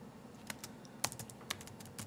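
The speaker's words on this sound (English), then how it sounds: "We're going to want to type git" Quiet, close computer keyboard typing of a git command, a handful of light separate keystrokes at an uneven pace, with no talking.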